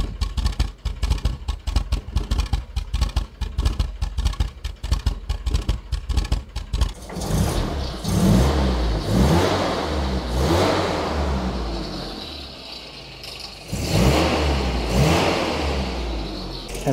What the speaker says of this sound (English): you can now hear the engine is a lot more smooth